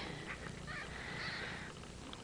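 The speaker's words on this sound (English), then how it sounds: "She's purring like you would not believe." A kitten purrs with a soft, steady rumble, close up, with faint squeaks over it.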